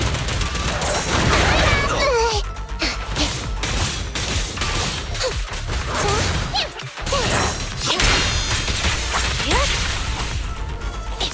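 Rapid bursts of gunfire crack and clatter in Zenless Zone Zero combat, mixed with smashes, whooshes and impacts, loud and continuous under shouted character voices.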